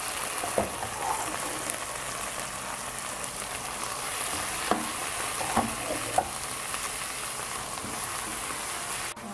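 Marinated chicken liver fries in a pan with garlic and onions, a steady close sizzle with a few sharp pops and utensil clicks throughout, no talking.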